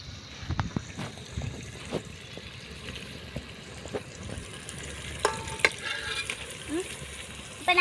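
Fresh goat intestines stirred and fried in a pan for kudal kulambu, with a low sizzle under irregular spoon scrapes and knocks against the pan, close by.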